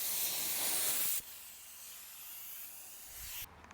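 Primer spray-painted onto a white Chevy Tahoe with peeling paint: a loud, close, continuous hiss, then a softer steady spray until it stops abruptly.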